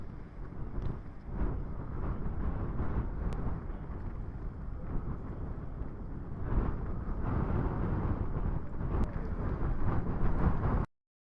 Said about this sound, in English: It's pretty cold and windy.